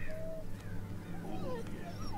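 A dog whimpers in the wartime game Valiant Hearts, with thin high whines and yips that rise and fall over a low steady hum and background sound.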